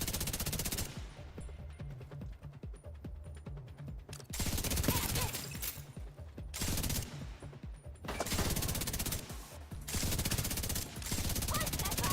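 Automated turret firing in Division 2, dense sustained bursts of machine-gun fire broken by brief pauses, loud and close throughout.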